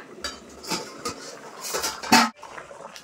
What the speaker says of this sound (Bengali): এখন চাপাটা খুলে দেখবো যে আলুগুলো সেদ্ধ হয়েছে কিনা।